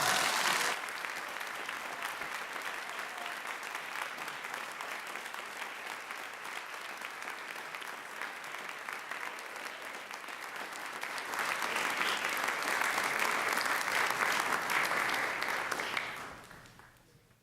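Sustained audience applause after a speech at a college peace oratorical contest, even clapping that swells louder around the twelve-second mark before fading out near the end.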